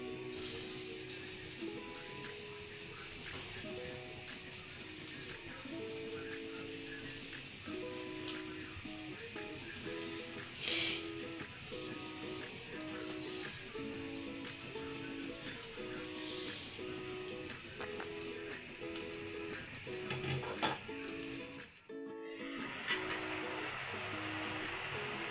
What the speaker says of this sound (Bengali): দোকানের মতো স্বাদ পেতে আমি এখন এই নেটের মধ্যে চিকেনগুলো একটু পুড়ে নিব।